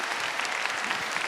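A Catholic congregation claps steadily and densely at a religious gathering, a brief, continuous burst of applause with no clear voices over it.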